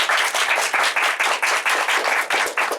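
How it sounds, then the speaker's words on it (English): An audience at an indie game developer talk gives a speaker steady applause, with fairly loud, close clapping that pulses in a regular rhythm throughout. "some applause, please"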